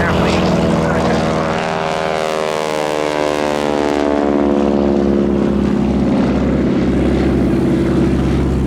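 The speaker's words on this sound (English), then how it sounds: "a rather attractive red, white, and blue painted biplane taxiing past" A red, white and blue biplane taxiing at the RAF Cosford Airshow 2024, its propeller engine a loud, steady drone whose pitch slides downward as it passes close by, with a commentator talking over it.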